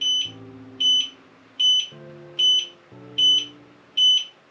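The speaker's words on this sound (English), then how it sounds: "This is the blinker beeping." Turn-signal beeper on a Yadea Elite Prime electric scooter, six evenly spaced high-pitched beeps at a steady rhythm, close and clear over a faint low hum.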